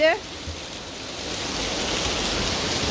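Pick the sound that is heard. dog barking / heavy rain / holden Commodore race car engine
heavy rain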